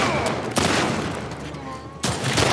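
Gunfire in the combat game The Last of Us Part II: a loud, sharp shot with a ringing decay, then a second burst about two seconds later, set against tense game ambience.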